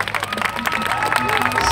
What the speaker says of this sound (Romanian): Haideți să-i mai aplaudăm încă o dată